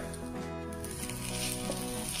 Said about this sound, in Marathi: तापलेल्या कढईत मी खोबऱ्याचा कीस भाजून घेते आहे